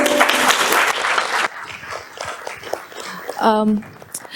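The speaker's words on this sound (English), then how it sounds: "Let's have a round of applause for our cast here." An audience gives a round of applause for the cast of a play, dense clapping that cuts off after about a second and a half, followed by talk and scattered sounds.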